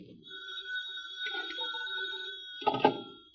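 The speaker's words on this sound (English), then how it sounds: "No, the phone." An old-fashioned telephone in a vintage radio drama rings with a sustained bright bell tone that holds for a few seconds and ends in a brief clattering burst, heard alone with no voices.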